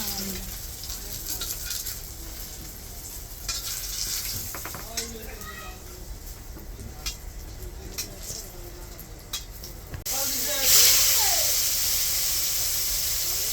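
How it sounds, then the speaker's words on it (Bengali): Eggplant slices frying in hot oil for a Bengali meal, a steady broadband sizzle with occasional stirring clicks, growing louder and brighter near the end as pieces are moved or turned. "এই সবগুলি এভাবেই ভালো করে ভেজে নেবেন"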